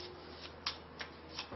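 A deck of castle cards from a board game being shuffled, soft papery riffles and taps repeating in quick bursts, quiet and close.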